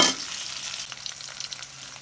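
Onion and green chili frying in a pan, with a bright sizzle that bursts loudly as they hit the oil and then settles into a steady, fainter crackle.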